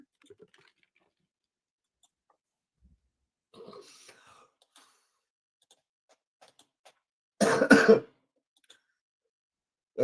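In a quiet courtroom hearing, someone gives a soft throat clearing, then a single sharp, louder cough a few seconds later, with faint ticks and small noises in between.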